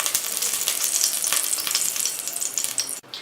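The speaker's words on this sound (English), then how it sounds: "Into it add about 1 to 2 tablespoons of raisins and saute till it starts to swell nicely in this ghee" Raisins sauteed in hot ghee for semiya payasam, a loud, bright sizzle with stirring scrapes mixed in, constant and close, cutting off briefly near the end.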